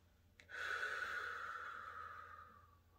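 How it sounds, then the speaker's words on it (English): A deep breath drawn in during guided prayer, a single long, steady airy inhale that swells quickly and then slowly tapers off, close and alone. "Take a deep breath in"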